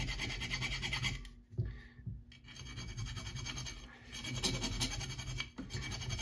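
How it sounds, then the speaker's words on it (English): A small hand file rasps around the edges of a part during the top-end rebuild of a 1943 Gravely Model L engine, giving steady close scraping strokes with a brief pause in the middle. "Get a small file."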